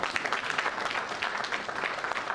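A crowd cheers and applauds steadily at the signing of a Congo-Uganda accord, a dense, continuous wash of clapping heard close and fairly loud throughout.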